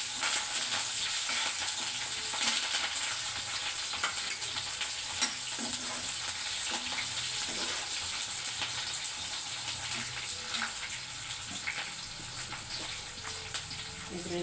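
Chilies and onions sizzle steadily in hot oil after seeds have gone into the pan, a dense, continuous frying hiss with faint stirring clinks underneath.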